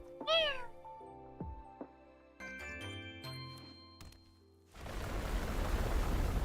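A cartoon cat meows once, loud and close, in the Brawl Stars video game, followed by chiming jingles and tinkling dings, then a burst of steady noise.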